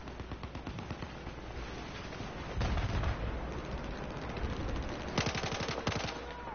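Rapid automatic gunfire in Battlefield 4, bursts of machine-gun shots crackling continuously with a heavier flurry partway through and another sharp volley near the end, loud and dense with no talking.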